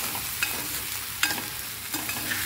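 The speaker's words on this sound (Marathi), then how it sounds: "हे छानपैकी आता 5 मिनिटं मी परतून घेते." Chicken pulao sautéing in a pan, a steady low sizzle of frying with occasional scrapes and stirring clinks of a spoon against the pan, close and alone without talk.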